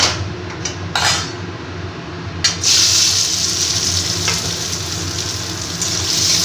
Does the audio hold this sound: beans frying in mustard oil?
yes